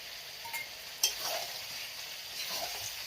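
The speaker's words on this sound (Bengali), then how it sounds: "টমেটোটা দেওয়ার পর বেশ একটু ভালোভাবে কষিয়ে নেব" Tomato and meat sautéing in a pan, a quiet steady sizzle with a few light scrapes and a sharp utensil tap near the middle, heard close and without voices.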